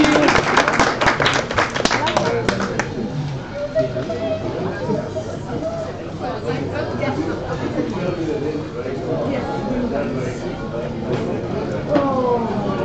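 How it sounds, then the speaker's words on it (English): An audience at a live event claps for a catering team, a scattered burst of hand claps at first that thins into murmuring crowd chatter and background voices. "A big applause for Melba and team, okay?"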